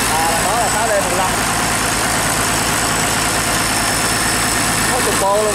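A 6D15 diesel engine idles with a steady low rumble and vibration close by, while someone talks over it.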